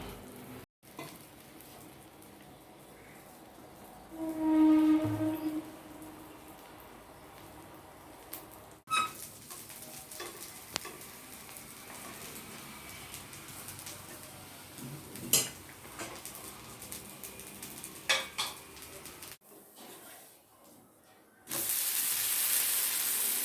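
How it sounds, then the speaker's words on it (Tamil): Cowpea dosa batter poured onto a hot griddle, a soft hiss and crackle building into a sustained quiet sizzle with occasional light scrapes, no talking. "இப்போ தோசை ஊற்றுறோம்"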